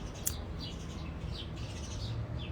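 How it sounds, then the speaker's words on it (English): Several birds chirp and tweet in short bursts throughout, fairly close among trees outdoors, with a steady low background rumble and no talking. "All the birds, I'm dying over the birds."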